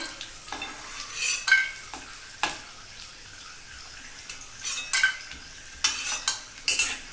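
Bori lentil dumplings and garlic frying in hot oil, with a low crackling sizzle under repeated scraping and clinking strokes of a spatula against the pan, close and intermittent.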